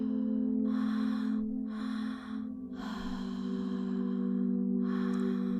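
Deep breaths in a conscious connected breathwork session, with four long, close airy inhales and exhales in an even rhythm over a soft sustained tonal music bed.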